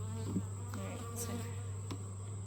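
Honey bees buzz steadily around an open backyard hive during an inspection, a dense continuous drone close by with a few louder passes of individual bees, no talking.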